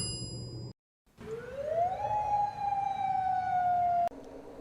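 An emergency alert siren tone rises and then holds a steady wail, loud and alone after a brief dropout, cutting off abruptly near the end.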